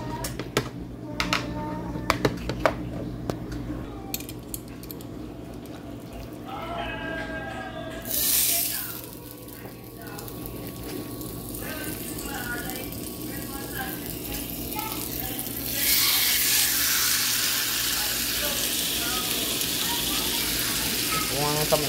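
Beef pieces frying in a skillet for beef stew, a steady broadband sizzle that swells louder in the second half, with scattered clinks and handling noises over a low background hum.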